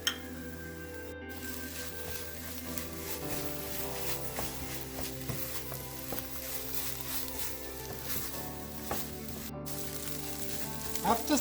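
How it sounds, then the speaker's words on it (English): Scrambled fish eggs with green chilli and coriander frying in a pan, a steady close sizzle with soft scraping of a spoon stirring, quiet and continuous with no talk. "Mix everything together."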